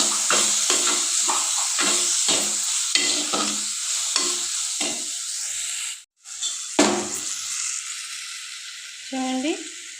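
Eggplant and ridge gourd curry is stirred and fried in a pan. A spatula makes rhythmic scraping strokes over a constant hot sizzle. The sizzle briefly cuts out, then returns, and a clink sounds near the end.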